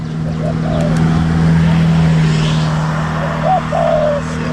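Soft, low spotted dove coos repeat a few times over steady roadside traffic and outdoor background hum, moderately distant.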